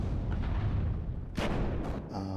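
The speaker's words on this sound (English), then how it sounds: "the artillery is firing now against the Roland" Artillery firing in the WARNO strategy game, heavy booming blasts in quick succession, loud and close, with a few sharper bursts cutting through near the end.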